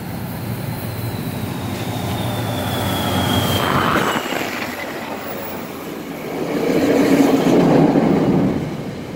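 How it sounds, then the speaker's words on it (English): A transit train passes close to a narrow construction site, a steady rolling rumble that swells toward the end, with a thin squeal from the wheels on the rails early on. "As you can see, there's a train coming through."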